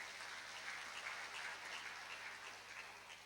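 A church congregation at a KKR revival service led by Pastor Gilbert Lumoindong applauds for God, giving a steady, dense wash of clapping that stays fairly faint and even throughout, with no voices over it.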